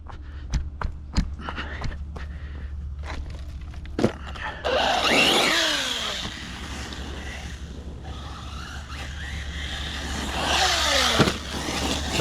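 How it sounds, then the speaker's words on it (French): A budget VS1 RC truggy accelerates in two bursts, its electric motor whine climbing sharply each time, after a stretch of scattered clicks and footstep-like taps over a low steady hum. "Dès que j'accélère, j'ai ma puissance qui part sur l'avant."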